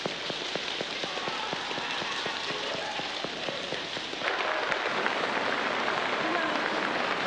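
A worship congregation pats their thighs harder to imitate rain, making a dense, steady patter of many hands. The patter swells louder partway through and sounds like a rain shower, with no talk over it.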